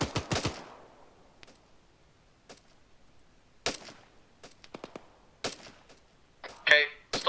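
Gunfire in a video game's jungle platoon drill: irregular sharp shots, some in quick bursts and others single and spaced, with a dense rattling burst near the end and quiet gaps between.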